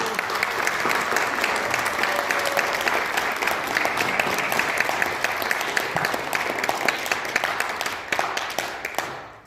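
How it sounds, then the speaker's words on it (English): Sustained applause from a community theatre audience at an awards ceremony, dense steady clapping from many hands filling the room for about nine seconds before tapering off at the end. "If we can give them a round of applause."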